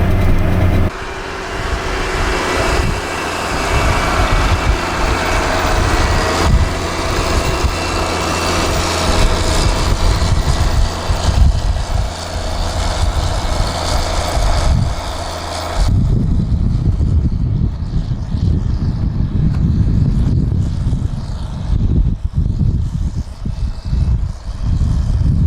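A BR 400 snow groomer engine runs loudly and continuously while grooming a ski hill at night, a dense droning roar that shifts to a deeper, rumbling tone partway through.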